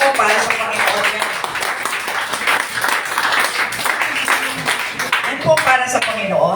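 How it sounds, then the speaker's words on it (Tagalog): A church congregation at a Sunday service claps together, steady applause that fills the room and runs under a loud voice speaking throughout. "Ang palakpak po para sa Panginoon yan."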